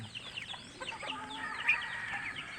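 Pet chickens and ducklings peck at feed, giving soft, scattered clucks and small chirps at moderate distance over a faint background hiss, with no talking.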